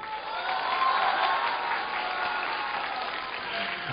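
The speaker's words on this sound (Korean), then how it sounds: "박수 한번 쳐보시죠." A school audience claps loudly and steadily to vote for Kim Soo-hyun, a dense continuous roar of hands with light crowd noise, holding for the full length before easing slightly.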